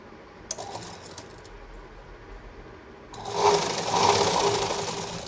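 A sewing machine stitches a blouse, starting with a few soft clicks and handling sounds, then running into a loud, fast, steady mechanical whir partway through, close up with no talking.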